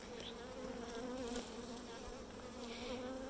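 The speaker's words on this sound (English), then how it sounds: "look for where the bees are clustering. She will always be surrounded by worker bees." Honey bees buzz inside an open hive during re-queening, where workers cluster around the queen: a steady, close, droning hum of many insects with no pauses, fairly quiet overall.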